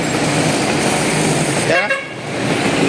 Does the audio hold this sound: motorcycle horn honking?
yes